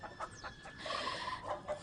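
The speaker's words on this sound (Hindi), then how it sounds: "और वो वाला मुर्गा कितना डरावना है।" A rooster clucks in a few short, repeated bursts with a brief louder squawk midway, fairly close and alone with no talking.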